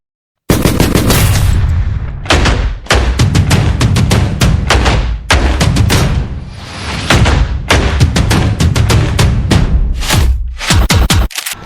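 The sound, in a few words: paintball guns firing at an amusement park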